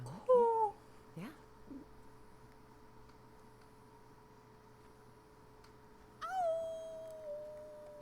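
A wolf howls in the video game Life is Strange 2, with a rising wail at the start and another longer howl near the end, set against a quiet, humming wilderness background.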